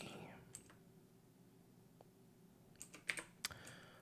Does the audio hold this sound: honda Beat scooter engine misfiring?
no